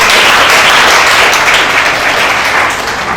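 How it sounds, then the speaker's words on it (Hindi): Schoolchildren at a cleanliness and health awareness programme clap together, a loud, dense burst of applause held steadily for about three seconds and tapering slightly at the end, with no talk. "ताली मारो।"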